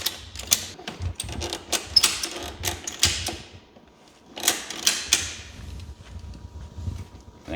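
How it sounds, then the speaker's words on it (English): A ratchet strap is cranked tight over the intercooler on a Yamaha Apex snowmobile with a big turbo build. Two bursts of sharp, rapid clicking come close up, with a short pause between them. "the last thing is the old ratchet strap to hold the intercooler on so she don't blow off"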